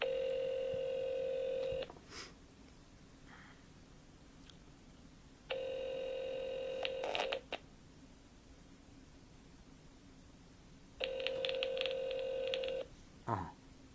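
A telephone call is dialed, with three separate stretches of steady ringback tone, each lasting about two seconds, separated by quiet line hiss and a few faint clicks.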